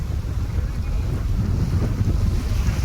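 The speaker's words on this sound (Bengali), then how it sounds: "আমাদের নৌকার পাশাপাশি আরও একটি বোট চলেছে" A boat's engine drones steadily nearby on a wide Sundarbans river, mixed with wind buffeting the microphone and water rushing past the hull, continuous and fairly loud throughout.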